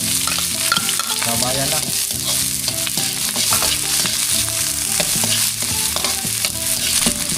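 Garlic, onion and ginger sauté with sardines in a pan, a loud, steady sizzle broken by repeated scraping stirs, while a voice speaks briefly.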